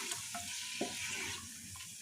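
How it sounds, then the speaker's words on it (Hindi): Meat fries and sizzles in a pan for a Kashmiri mutton and kohlrabi dish, with a few soft stirring scrapes and a sharp clank at the very end. Fairly quiet, with no talking. "मीट को अब हम इसमें थोड़ा सा फ्राई करेंगे"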